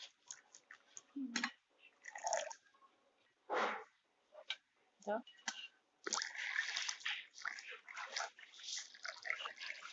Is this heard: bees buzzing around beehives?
no